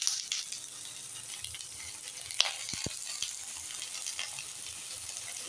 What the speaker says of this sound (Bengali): পটল আর আলুটা দিয়েছিলাম, পটল আলুটা একটু ভাজা হয়ে এসছে